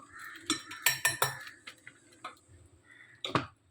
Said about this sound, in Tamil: அது ஒரு கரண்டி எடுத்துக்கலாம்.